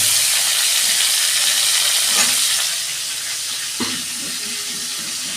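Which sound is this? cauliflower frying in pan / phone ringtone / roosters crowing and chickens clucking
cauliflower frying in pan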